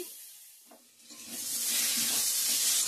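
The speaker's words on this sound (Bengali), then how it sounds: "আলুটা ভাজা ভাজা হয়ে গেছে" Potatoes frying in a pan with turmeric and salt, a steady broadband sizzle that swells and grows louder through the second half, close and without speech.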